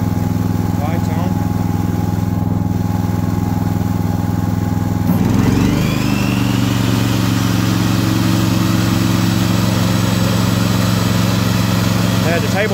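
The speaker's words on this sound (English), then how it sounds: "The table saw is just about as loud as the generator." A 13-amp table saw powered by a Honda EG2800i inverter generator, with a steady engine drone that revs up as the saw's motor kicks in midway and runs at a constant loud hum.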